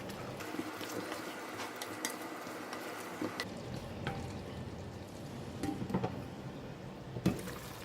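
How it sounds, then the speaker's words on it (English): Chicken being stirred in a pan of thick soy sauce gravy: a quiet bubbling simmer with soft, intermittent scrapes of the spoon, heard without speech. "So just give it a stir."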